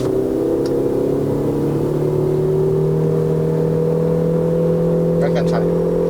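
A 2019 Proton Exora Premium accelerates at full throttle, its engine droning steadily from inside the cabin with a slowly rising pitch, loud and continuous, while a person talks over it.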